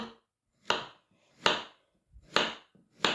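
A knife chops zucchini on a board into roughly one-centimetre pieces in four slow, evenly spaced cuts, each a crisp thud followed by silence.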